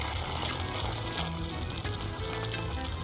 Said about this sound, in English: Now we'll place about 4 tomatoes in a bowl and pour some hot water on it.